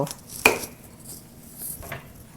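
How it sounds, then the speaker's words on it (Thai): A knife cutting broccoli into florets in a home kitchen: one crisp, faint chop against a board, followed by soft rustling and a quiet background. "บรอกโคลีเนี่ยเราก็จะหั่นเอา"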